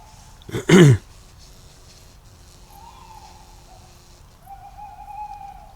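A short burst of hooting from an owl in a tree overhead is followed by softer, quavering owl calls in the distance in an ancient forest, set against quiet low background noise.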